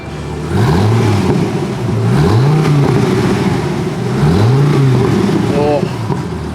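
A modified V10 Dodge Viper engine revs repeatedly in loud, rising and falling bursts, with a steady engine drone between the revs.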